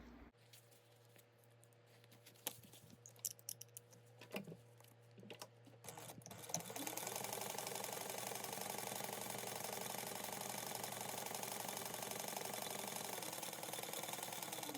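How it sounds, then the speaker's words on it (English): A sewing machine runs a seam on a backpack after some quiet handling clicks, breaking into a steady, loud, continuous whirring chatter that lasts to the end. "you're going to sew that at a 1/4 inch seam allowance"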